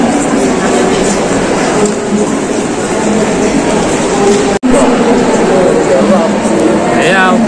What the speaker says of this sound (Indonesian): ini saya menunggu di dalam stasiun. Ini sangat ramai sekali.